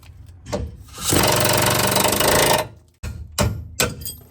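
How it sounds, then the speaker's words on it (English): An air hammer rattles against a bushing on a 1988–98 Chevy Silverado 4x4 truck, a loud sustained burst of rapid pneumatic hammering followed by several shorter bursts, close by. "see if I can take it out with the air hammer"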